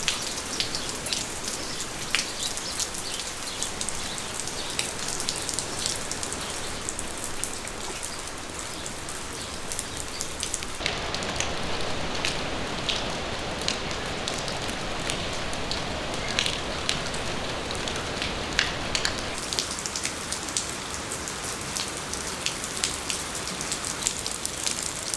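Heavy, persistent storm rain on a farm in Portugal: a dense, steady hiss of drops pattering on surfaces continues throughout at an even loudness, with no voices.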